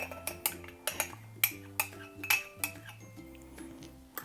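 A spoon works melted butter and yeast into a dough mixture in a bowl for Spanish bread: irregular clinks and scrapes against the bowl, close and moderately loud, over a low background tone, no speech.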